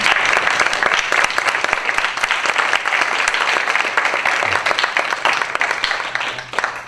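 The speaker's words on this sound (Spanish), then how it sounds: "terminemos este evento con un aplauso" Sustained, dense applause from a conference audience, loud and steady throughout with no speech over it.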